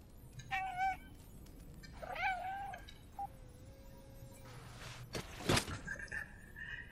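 A cat meows several times in the video game Stray, giving short, clear rising and falling cries in a quiet scene, with a few soft bumps and a brief sharp noise between them.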